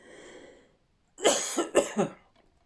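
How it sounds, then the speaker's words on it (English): A person lets out a cluster of three or four harsh, close coughs in quick succession after a brief quiet pause. "Oh, I'm going to cough again."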